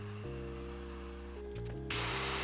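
A power drill whines through wooden shelf dividers, its motor pitch stepping and shifting before a harsh, loud grinding burst as the bit cuts through, close and alone.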